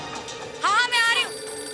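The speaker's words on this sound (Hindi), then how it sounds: "फोन बजा, मैं आ रही हूँ।" A telephone rings in a household, a short warbling electronic trill that comes in two quick pulses over a faint room background, with a voice nearby.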